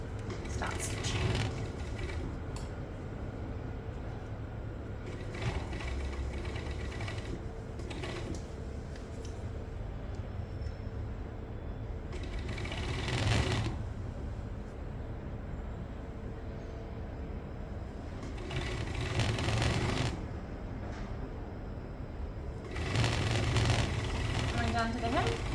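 Sewing machine running in bursts while stitching a children's t-shirt underarm seam down to the hem, several runs of steady mechanical whir separated by short pauses, close and moderately loud with a low rumble underneath.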